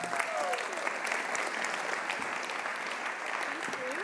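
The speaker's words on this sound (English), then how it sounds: "give her an applause" An audience at a talk applauds the next speaker with steady, moderately distant clapping that holds an even level throughout, and faint voices beneath it.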